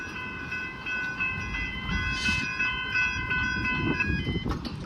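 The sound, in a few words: train passing at Station St level crossing, Seaford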